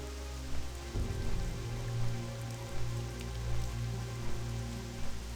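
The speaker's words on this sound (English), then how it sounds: "Wow, some real heavy rain there." Heavy rain in World of Warcraft Classic, a steady dense hiss of rainfall over a low droning ambience, with occasional soft bumps, moderately loud and without talk.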